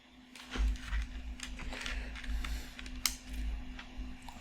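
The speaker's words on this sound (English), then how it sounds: "Keyboard is acting up." Typing on a malfunctioning computer keyboard: quiet, irregular clicks and taps close by over a steady low electrical hum, with a sharper single click near the end.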